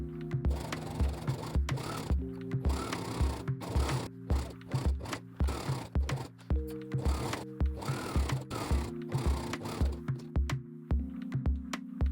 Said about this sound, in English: Clip in place and sew with a ½ cm seam allowance.